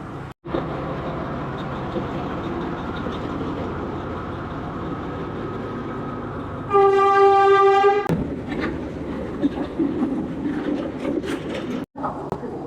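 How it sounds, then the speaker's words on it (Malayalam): An old-model diesel locomotive train in Sri Lanka rumbles steadily throughout, with a loud horn blast sounding for about a second midway, then the running noise continues. "പഴയ മോഡൽ ട്രെയിനാണ്, ഡീസൽ ലോക്കോമോട്ടീവ് ആണ്"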